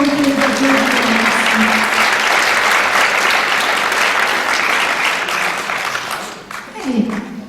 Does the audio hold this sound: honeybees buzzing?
no